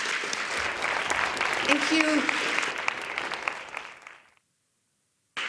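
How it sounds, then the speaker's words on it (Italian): Sustained audience applause at the 2020 Venice Film Festival press conference, loud and dense clapping for about four seconds before cutting to silence, with a brief spoken thanks at the end. "So once more, applause."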